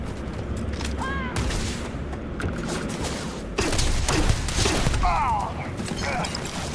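Gunfire from a favourite weapon in the space game Starfield, a dense run of sharp shots and bursts over busy combat noise, growing louder and heavier midway through.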